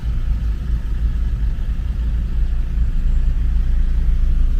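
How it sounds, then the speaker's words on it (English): Heavy road traffic jammed during road repairs near Fields Avenue in Angeles City, with cars and trucks barely moving, giving a steady low engine rumble that stays loud and continuous throughout without any talk. "so heavy traffic, we waiting long time in the road"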